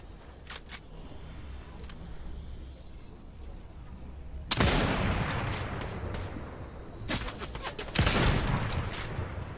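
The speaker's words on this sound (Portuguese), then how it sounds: "o amigo dele tá na janela te atirando" Gunfire from a Fortnite match: a quiet stretch of game ambience, then two loud bursts of shots at about four and a half and eight seconds, each trailing off into noisy echo.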